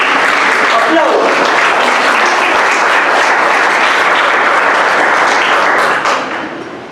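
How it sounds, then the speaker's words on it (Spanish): Loud, sustained applause from a large church congregation fills the clip, dense and steady, then begins to fade near the end. "Aplausos."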